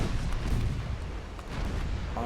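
Torpedoes strike a warship in Ultimate Admiral Dreadnoughts, a naval battle game, giving deep rolling booms and rumbling blasts that run together across a dense stretch of battle noise.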